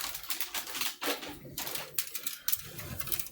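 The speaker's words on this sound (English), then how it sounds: "If that crinkling is annoying, let me know." Plastic model kit packaging, an HG Gundam RX-9 set, crinkling close by in a quiet room: quick, irregular crackles and rustles in short bursts.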